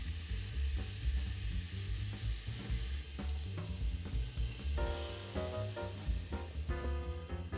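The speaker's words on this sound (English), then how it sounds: "I'm frying up our diced onions in some oil here." Diced onions sizzle steadily in hot oil in a pan, a continuous close frying hiss with occasional stirring scrapes, and no talk.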